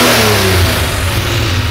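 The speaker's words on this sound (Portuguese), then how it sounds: "Vou dar uma aceleradinha só pra você sentir" A tuned Chevrolet Opala SS4 four-cylinder engine revs up close, a loud, rough, throaty roar that climbs in pitch and holds steady, with no talk over it.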